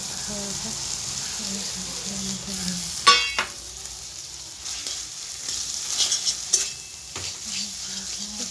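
Boiled kalmi greens are stirred into a watery spice paste with potatoes in a pan. A spoon scrapes and clatters in a few sharp strokes over a soft, steady sizzle.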